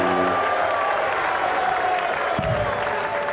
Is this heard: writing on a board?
no